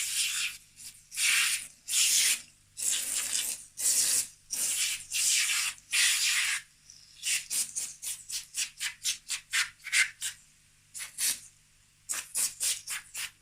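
Repeated bursts of aerosol spray oil on a Brother KH881 knitting machine carriage, first long hisses and then a quick series of short puffs, close and loud with no talking.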